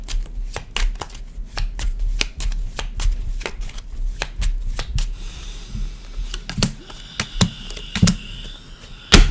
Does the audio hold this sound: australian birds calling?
no